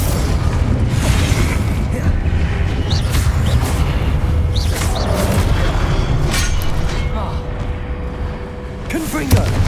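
Spell blasts and booming magical impacts from Hogwarts Legacy, dense and loud throughout, layered over a constant rumbling game soundtrack with scattered sharp pops and whooshes.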